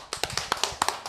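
Hand claps dropped in as a sound effect on a hip-hop radio show, about ten quick sharp claps in an uneven burst, close and crisp, with no voices.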